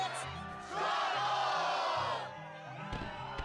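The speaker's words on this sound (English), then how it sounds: "the crowd is fired up" A crowd in Kingdom Hearts II roars and whoops in one loud burst of massed cheering that fades out, with game music underneath.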